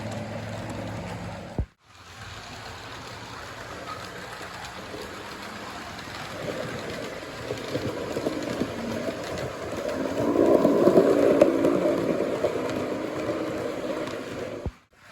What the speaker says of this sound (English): and the slight hum of the electric motor